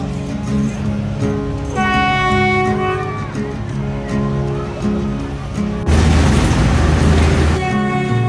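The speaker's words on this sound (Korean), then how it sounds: "마침 저기 기차가 지나가네요." A train rolls past in a congested Vietnamese city, with a loud, sustained rumble and a tonal horn blast partway through. Near the end the rumble surges louder and rougher.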